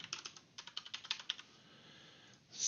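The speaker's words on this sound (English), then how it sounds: "I'm going to type in our passwords." Passwords typed on a computer keyboard: a quick run of light, crisp key clicks over the first second and a half, then quiet, heard close and alone.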